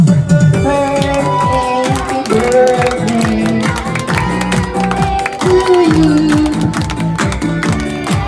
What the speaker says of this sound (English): Okay, mag-clap po tayo ng 7.